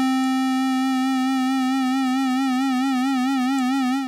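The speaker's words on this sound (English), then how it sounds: "And all LFO1 is a sine wave." Arturia iSEM synthesizer tone modulated by a sine wave LFO, a loud sustained buzzy note whose pitch wobbles smoothly up and down in a regular, even cycle, heard alone.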